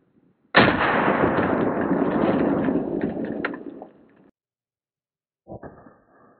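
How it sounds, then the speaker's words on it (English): An M855 5.56 round fired from a 16-inch barrel into ballistic gel about ten yards away gives one sharp loud report followed by a roughly three-second rumbling decay, then silence and a brief faint thump. "First into the gel is going to be 855, again, out of a 16-inch barrel at about 10 yards."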